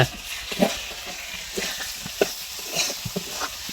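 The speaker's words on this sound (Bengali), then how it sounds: "মুরগির মাংস ভাজি করছি" Chicken meat fries in a pan with a steady close sizzle and repeated scraping taps as it is stirred.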